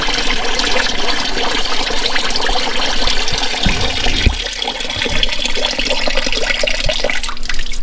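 Diesel fuel drains out of a seized Hemi engine, a loud continuous splashing, gushing pour of liquid, close up and steady throughout, with no voices over it.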